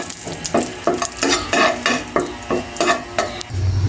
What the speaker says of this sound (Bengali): সাথে দেব কিছু তেজপাতা এবং এলাচ। এটা আমি ঘিয়ের সাথে হালকা একটু ভেজে নিব।